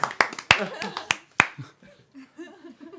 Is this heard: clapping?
yes